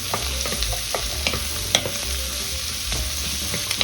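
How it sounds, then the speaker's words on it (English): Vegetables sauteing over medium-high heat in a pot for osso buco, a steady sizzle broken by crackles and stirring scrapes, close up and alone without voices. "we have a good saute of these veggies"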